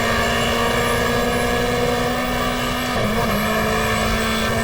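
A race car engine held in fifth gear in GTR2, a 1994 Australian Manufacturers Championship race at Lakeside, droning loud and constant with a steady high whine, close and unbroken, no voices.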